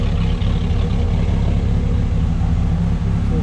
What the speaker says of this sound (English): Yep, hear the engine.